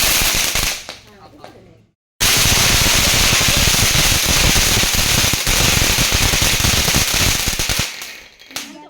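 Vishu firecrackers burst in a loud, dense barrage of rapid crackling pops that runs for several seconds after a brief quieter stretch, then fades out toward the end.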